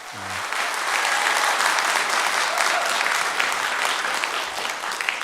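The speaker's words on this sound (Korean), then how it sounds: "우리 다시 한번 우리 아이들에게 우리 큰 박수를 한번 드리겠습니다" A church congregation at a Sunday afternoon service applauds the children with sustained, even clapping from a full room, loud and continuous throughout, with a brief tone at the very start.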